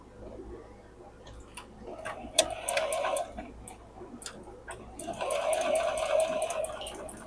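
A sewing machine stitches a quilt block in short, rhythmic bursts, close and moderately loud, with pauses between runs and a voice speaking in the background.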